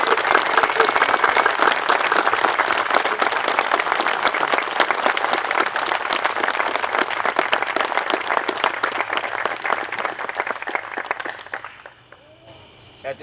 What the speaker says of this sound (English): I would like to ask you right now to honor them with a round of applause